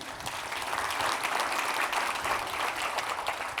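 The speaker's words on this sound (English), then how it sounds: "So a big round of applause to the operating committee." An audience at an annual general meeting applauds the operating committee, steady dense clapping filling the room at an even level for the whole stretch, with no voices over it.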